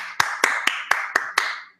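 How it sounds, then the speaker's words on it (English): Six sharp hand claps in a quick, even rhythm, close and alone, the last one trailing off. "So I got to give him an applause."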